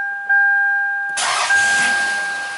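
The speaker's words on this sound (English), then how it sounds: "We can try shutting the car off, starting it back up, see if it comes back to life." Toyota/Lexus V6 car engine with a low idle fault cranked and restarted: a chime tone sounds, then the starter catches and the engine fires into a loud, steady idle close by, with no voices.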